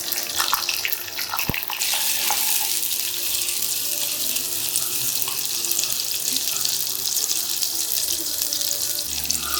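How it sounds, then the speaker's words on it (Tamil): Small onions dropped into hot oil for a spicy tamarind kara kulambu set off a loud, steady sizzle that runs unbroken throughout, with a brief clatter near the start. "இப்போ வந்துட்டு இதில் நான் சின்ன வெங்காயம் வந்துட்டு சேர்த்துக்கிறேன்."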